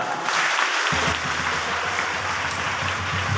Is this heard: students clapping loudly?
yes